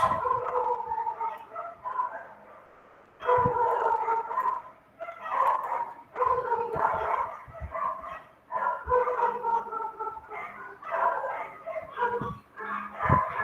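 Several dogs bark and yip in repeated bursts for the whole stretch, loud and close, with short pauses between volleys and a voice faintly underneath.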